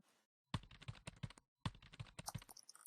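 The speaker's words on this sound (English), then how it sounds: "I'm typing here" Fast, steady typing on a computer keyboard, close by, in two busy runs of clattering keystrokes with a short pause between.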